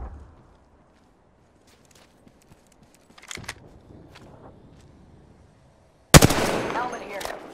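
Gunfire in Apex Legends: a quiet stretch with faint scattered clicks and a short muffled burst, then a sudden loud, sharp shot near the end.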